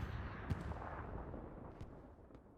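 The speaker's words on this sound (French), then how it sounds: "l'entendre là quand même tirer ce canon" A Tiger tank's cannon fires in a World War II battle video game set in Carentan. A few sharp, distant booms stand over a steady rumbling battlefield background.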